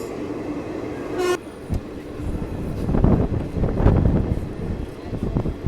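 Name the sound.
Godda Express train at a railway station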